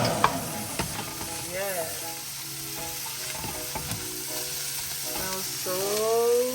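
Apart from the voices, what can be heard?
frying in a pan, sizzling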